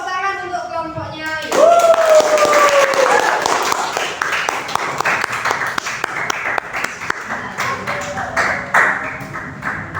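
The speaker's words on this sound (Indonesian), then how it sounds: "silakan duduk kembali, tepuk tangan untuk kelompoknya" Classmates in a vocational high school classroom clap for a student group after its presentation, loud scattered applause rising suddenly and tapering into sparse claps, with a voice speaking over it.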